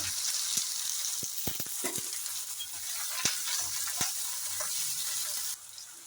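Chopped onion and tomato sizzle steadily in a pan with crushed whole garam masala and a bay leaf for mutton kosha, a constant close hiss with a few sharp ticks of stirring, then quieting slightly at the end.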